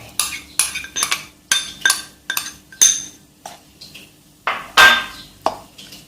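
Coconut is tipped into a bowl and mixed for a Thai fried banana batter, with a spoon knocking and scraping against the bowl in quick repeated clinks, close and fairly loud.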